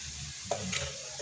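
Vegetables for pinakbet sizzle and crackle in a hot pan, a steady frying hiss with a brief stirring clatter partway through, close and fairly soft, with no talking.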